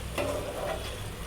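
Tomato pickle being mixed gently in a pan, a soft, faint scraping stir with a light sizzle underneath, a few brief strokes, no talking.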